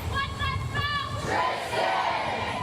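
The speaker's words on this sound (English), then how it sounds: "Those who loved her cheered her name" A crowd at a memorial gathering cheering and calling out a name together, loud sustained massed voices rising in waves with shouted calls.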